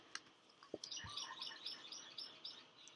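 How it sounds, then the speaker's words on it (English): Small birds chirp and tweet outdoors in a quiet setting, a steady scatter of high, light calls running throughout at moderate distance with a few soft knocks mixed in. "Hear the birds? I love that."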